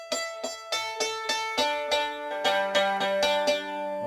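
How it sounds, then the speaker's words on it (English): A mandolin plucked very close to the bridge gives a thin, bright, twangy tone, with about a dozen quick, evenly spaced picked notes that ring briefly and then decay. "If you play too close to the bridge, you get a very thin sound"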